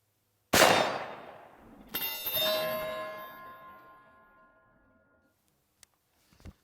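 One sharp gunshot cracks out and decays. A second later a Firebird 50 BIO exploding target is struck and rings with a loud metallic clang that slowly fades into silence, with a faint tap at the end.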